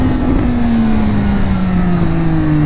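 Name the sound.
Triumph motorcycle accelerating as the throttle is opened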